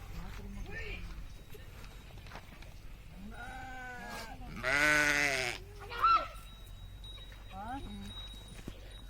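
A flock of sheep bleating beside a lake, several drawn-out, wavering calls from nearby animals, one especially loud, over a low steady background.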